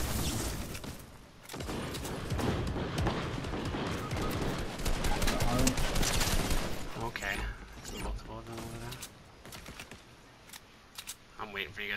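Rapid automatic gunfire in a video game shootout, dense bursts of shots crackling almost nonstop before thinning into scattered single shots, with players talking over the action.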